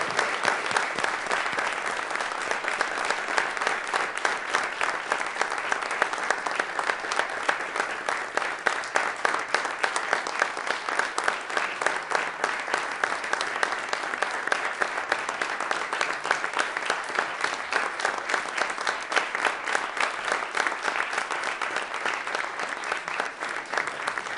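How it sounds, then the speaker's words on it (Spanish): A studio audience gives a long, sustained round of applause as a farewell to actor Ignacio López Tarso after a TV interview, dense steady clapping filling the whole stretch without talk. "Despidamos con un fuerte aplauso al señor Ignacio López Tarso."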